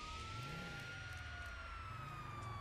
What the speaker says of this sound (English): you need to keep the sirens on